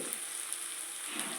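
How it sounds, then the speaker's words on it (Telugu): Onions frying in a pan for an egg fry, giving a steady, even sizzle and crackle that holds at moderate loudness throughout the short stretch, with no voices. "ఇదిగోండి బాగా ఫ్రై అయిపోయాయి కదా ఉల్లిపాయలు"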